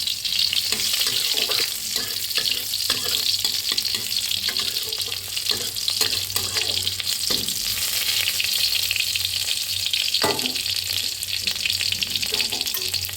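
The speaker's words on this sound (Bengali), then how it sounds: "তেলটা গরম হয়ে গেছে এবার কিছুটা রসুন দিয়ে দিলাম" Garlic frying in hot white oil in a karahi gives a loud, steady sizzle that runs unbroken throughout, with occasional light scrapes and clinks from stirring.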